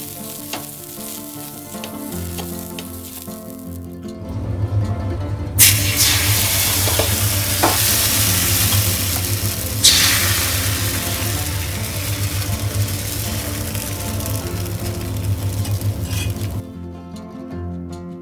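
Oil is spread over a hot griddle with half an onion, and a loud steady sizzle swells after a few seconds, scraping strokes rising through it, then fades near the end; no one talks.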